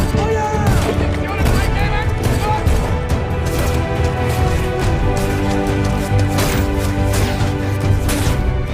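Dense battle gunfire rattles continuously under shouted voices and a dramatic soundtrack, rapid overlapping shots and bursts crowding the loud, busy mix.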